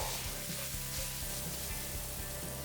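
Carrots, beans and salt sizzle steadily in a pan for street-style fried rice with cauliflower, a continuous close frying hiss with a faint rhythmic ticking underneath, no voices.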